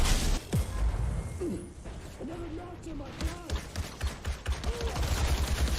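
A minigun in the Outriders video game trailer hammers the floor in a dense, sustained roar of rapid gunfire, mixed with clanking mechanical noise and debris.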